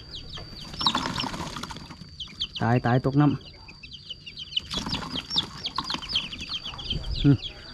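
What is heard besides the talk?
chicks clucking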